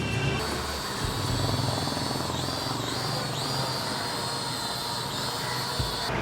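A cheap toy camera drone flies nearby, its small rotors giving a steady, loud, high-pitched buzz throughout with slight pitch swoops as it manoeuvres, and no talking.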